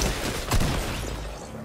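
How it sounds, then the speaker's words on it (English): Shotgun fire in the video game Fortnite, a single loud blast that cuts through a dense, busy game mix and then trails off into ongoing noise. "He's got a shotgun."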